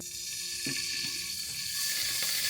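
Garlic sizzles in a hot pan while rice and chicken powder wait to go in, a steady close hiss with a few soft stirring scrapes and no talk.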